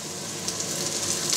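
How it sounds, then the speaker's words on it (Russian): Eggplant slices, a second batch for a warm Uzbek-style salad, fry in hot oil with a steady, close crackling sizzle throughout. "Жарим вторую порцию баклажанчиков"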